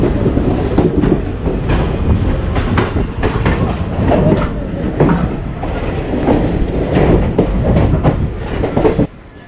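Coromandel Express train pulling out of Chennai Central station, a steady loud rumble of wheels and carriages with rhythmic clacking throughout, no talk.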